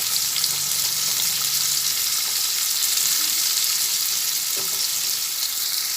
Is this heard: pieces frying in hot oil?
yes